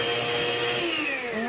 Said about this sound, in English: Turn it back down to low, slowly raise up the mixer